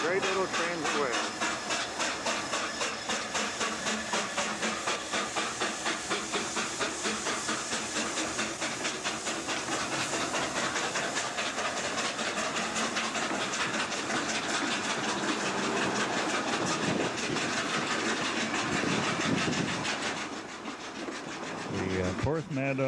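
A narrow-gauge steam locomotive of the Festiniog Railway in Porthmadog, Wales, pulls out with a loud, continuous broadband hiss and chuffing rumble, rail noise grinding underneath, easing off briefly near the end.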